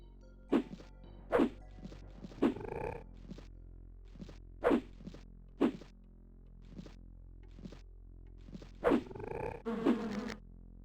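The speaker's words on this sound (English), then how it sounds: "I hear bees somewhere. Yeah, there are bees somewhere around here." Bees buzz in the Lands of Lore video game, short separate buzzing bursts repeating at uneven intervals over a quiet low hum, with a couple of longer, louder swells near the end.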